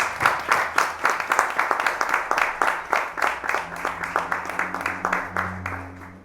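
Panel attendees at a street-art event clap together in a strong, regular rhythm of loud, close claps, with a low sustained hum entering toward the end.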